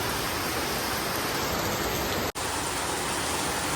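A heavy monsoon downpour keeps up a loud, steady roar of rain close by. One very brief dropout cuts through it midway, and no one speaks.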